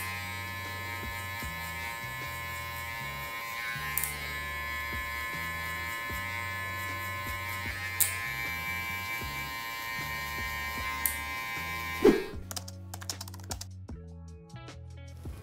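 An electric hair clipper fitted with a one guard, lever open, buzzes steadily while trimming a bushy beard, with a rhythmic pulsing drone, occasional clicks, and a sharp knock near the end before the motor shifts pitch.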